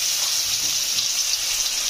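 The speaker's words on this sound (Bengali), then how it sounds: "এই গরম তেলে এখন আলুগুলো ভেজে নেব।" Potatoes fry in hot oil in a home kitchen, a steady broadband hiss of sizzling that stays close and even throughout, with no voices over it.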